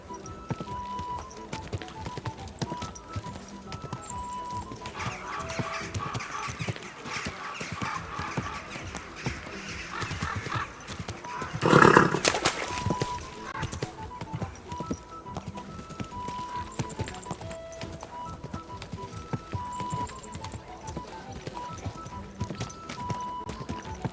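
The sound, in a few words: horse galloping and neighing in Kingdom Come: Deliverance 2 video game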